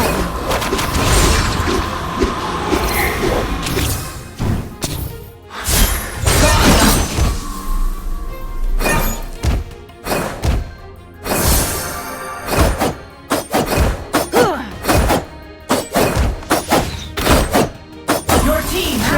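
A turret is destroyed in a video game amid a dense run of heavy thuds, booms and clunking impacts, with bursts of game voice announcements over the loud, chaotic combat.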